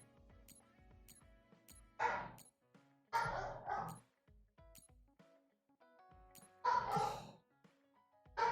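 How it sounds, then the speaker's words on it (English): Dogs in a house bark in three loud bursts a second or so apart, cutting sharply over quieter background sounds with light clinking between them. "my dogs are barking like crazy"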